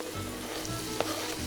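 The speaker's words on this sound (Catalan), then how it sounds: "I ara ja anem a fregir la ceba" Onion frying in a pan gives a steady, close sizzle with faint crackles and a small pop, quiet and continuous with no voices.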